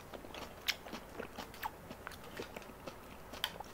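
A mouthful of cabbage being bitten and chewed close up, with quiet, irregular crunches and wet chewing sounds and a few sharper bites standing out.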